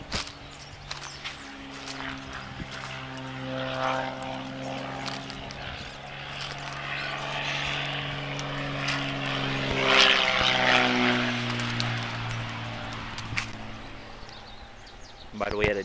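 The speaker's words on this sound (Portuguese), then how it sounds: "Barulheira de avião, né?" A propeller airplane drones overhead above a rural property in Altinópolis, São Paulo, its engine tone swelling as it passes and slowly shifting pitch, with footsteps and a voice heard briefly underneath.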